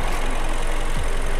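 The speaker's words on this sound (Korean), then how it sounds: "엔진 소리 일정하네요." A Toyota RAV4 fifth generation 2.5 petrol engine idles in the open engine bay, giving a steady, even, fairly loud hum with no talk over it.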